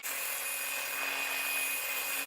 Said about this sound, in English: Joe's breaking out the power tools